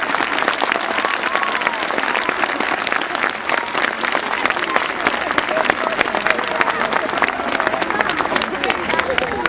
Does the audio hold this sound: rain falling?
no